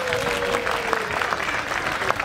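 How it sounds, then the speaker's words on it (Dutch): Audience at a children's Efteling fairy-tale show claps for five child volunteers, a steady dense patter of applause over about two seconds, with a faint tonal sound and a few voices mixed in. "Mag ik even een applaus voor deze 5 dienaren."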